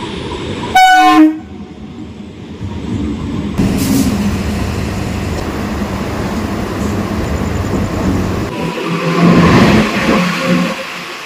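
A train on the Sealdah main line rumbles steadily along the rails, preceded by a brief horn blast, with the clatter swelling louder toward the end.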